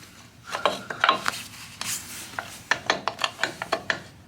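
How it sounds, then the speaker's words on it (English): Short rasping, scraping clicks from a ratchet screwdriver as screws are backed out of a Tomos A3 moped case, in an irregular series of close, distinct strokes that speed up toward the end. "Ratchet screwdriver. Here comes the case."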